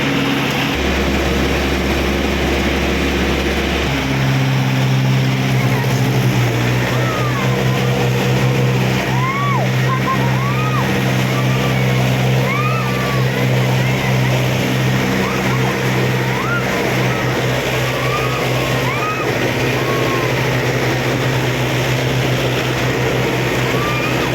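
Two Mahindra tractors driving, heavy engines rumbling steadily, a deep low drone with a louder surge starting a few seconds in, continuing under a constant broadband roar.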